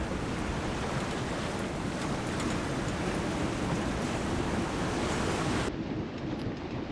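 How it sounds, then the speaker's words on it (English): Waves slam steadily against a sailboat hull at sea while wind roars past the mast, a dense, continuous loud wash of water and wind noise throughout. "Waves slamming against the hull and the wind that whistles past the mast."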